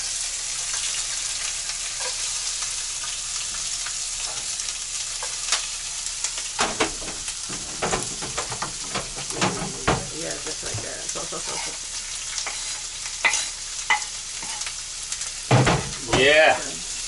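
Red peppers sizzling in an oiled pan and being stirred, with a steady hiss behind repeated scraping and clattering strokes and a brief burst of louder sizzle near the end.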